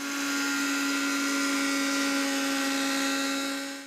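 A kitchen mixer grinder runs in one short steady whirring burst, loud and close, with a strong motor whine and no talking over it, ending as it cuts off.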